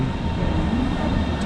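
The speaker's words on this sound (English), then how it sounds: "we are here just in time for the train" A Berlin S-Bahn train on the S7 line arrives at the station with a steady, loud low rumble that fills the whole moment, with no talking.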